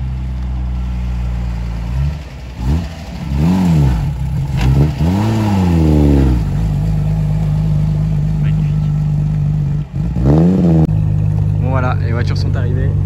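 Several Ferrari Monza SP2 sports cars roll in slowly at a rally stop in the south-west, their engines rising and falling in loud revving sweeps with a steady low rumble between, while people talk over them.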